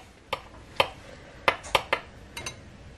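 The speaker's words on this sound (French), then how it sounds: "J'ai pris une verrine que je vais commencer à mettre une petite cuillère de notre mélange" A small spoon clinks against a glass verrine while layering strawberry tiramisu mixture, giving several light, sharp taps spaced irregularly, close and fairly quiet with no talking.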